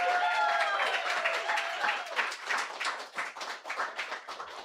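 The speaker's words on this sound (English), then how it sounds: "Let's give a round of applause for Jimmy Vega." Crowd applause at a photography event's fifth anniversary celebration, a lively mix of individual claps and whoops that starts full and fades into scattered, uneven clapping.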